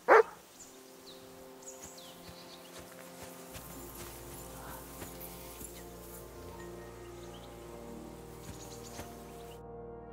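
Mutt the dog in Kingdom Come: Deliverance 2 lets out a sharp, loud bark at the very start, followed by steady sustained tones and faint clip-clopping hooves in the background.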